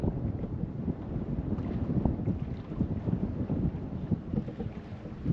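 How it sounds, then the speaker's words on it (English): Strong wind buffets a small fishing boat on the Black River during a crappie outing, a loud, gusty rush of wind noise pulsing against the microphone with no voices. "Wind is brutal. Wouldn't be too bad if that wind would stop."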